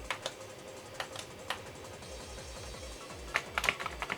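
Clicky keystrokes on an Amiga computer keyboard, scattered single presses then a quick cluster of taps near the end, close and fairly quiet over a low, pulsing electronic hum.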